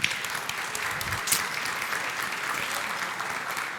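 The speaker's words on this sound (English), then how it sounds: "Big round of applause." An audience at a DevOps conference talk applauds a speaker with steady, dense clapping that holds at an even level throughout, with a brief louder swell near the middle.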